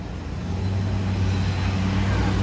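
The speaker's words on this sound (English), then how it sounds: "so we can all enjoy the soothing sounds of traffic together" Steady roar of heavy rush-hour street traffic in New York City, a dense continuous rumble of engines with no breaks, close and loud.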